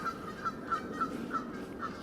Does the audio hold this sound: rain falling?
no